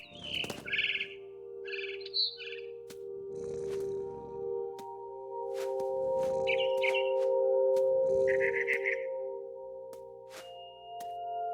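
Synthetic bird chirps in short bursts alternate with soft rustling thumps over a sustained electronic drone, like game sound effects, from the video game What Remains of Edith Finch.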